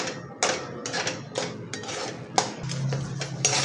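Egg bhurji is stirred in a pan, with repeated close metallic scrapes and taps of a spatula against the pan at an irregular, quick rhythm, fairly quiet and without voices.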